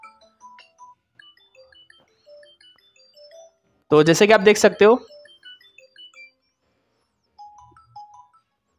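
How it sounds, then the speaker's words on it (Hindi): A Xiaomi MI phone plays a selected ringtone, a bright melodic burst of about one second rising loud and close out of near silence. Someone talks in the clip. "इधर से मैं कोई भी रिंगटोन सेलेक्ट करके इधर लगा सकता हूँ"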